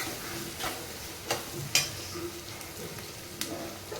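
Chicken with turmeric frying in a pan while a utensil stirs it, giving a soft steady sizzle broken by a few sharp scraping clicks, with no talking.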